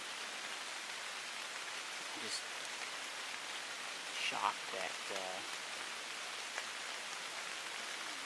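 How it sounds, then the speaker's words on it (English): Rain falls steadily and grows heavier outdoors in a deer-hunting spot, a constant soft hiss of drops on surfaces, while someone speaks quietly over it. "I can start feeling some drops coming down now as the rain gets heavier"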